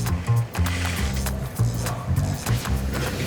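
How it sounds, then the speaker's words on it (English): A blue eyelet machine punches lace holes in shoe uppers, repeating mechanical thumps and whirs in a quick, regular rhythm, close and fairly loud, with a low motor hum between strokes. "Linda's using this blue machine called an eyeliner. It makes holes in the shoe uppers for the laces."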